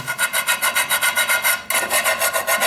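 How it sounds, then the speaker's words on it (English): Rhythmic scrubbing of a ridged cast iron pan, steady back-and-forth rasping strokes repeating about five times a second, loud and close, with a brief break midway before the scrubbing resumes. "To be honest, this is my first time cleaning a cast iron pan."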